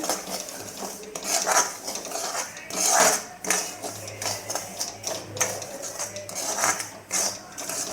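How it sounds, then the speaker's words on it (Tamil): Semolina roasting in hot ghee in a pan, stirred with a spoon: steady soft scraping and clinking of utensil against metal, with a faint background hum, close and moderately loud. "அதில் ரவை போட்டு நம்ம நல்லா வறுத்துக்கலாங்க. ரவை நல்லா வறுக்கணுங்க."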